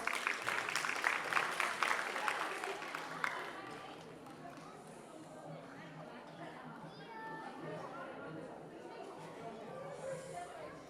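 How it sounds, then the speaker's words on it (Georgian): A live audience claps to send performers off stage at a children's show, with loud scattered applause for about three seconds. It then fades into a low murmur of crowd noise and children's voices. "ტაშით გავაცილოთ."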